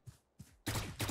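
Gunfire in Valorant, two faint early shots followed by a louder, close burst of rapid firing that lasts briefly.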